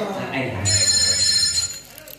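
A phone ring tone sounds steadily for about a second, mixed with a low voice murmuring in the background.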